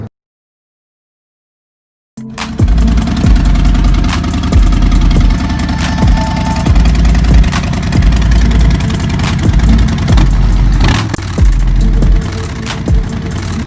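After a brief silence, a Yamaha FZS 25 motorcycle engine roars to life and revs repeatedly in surging bursts, close and aggressive, with no talking.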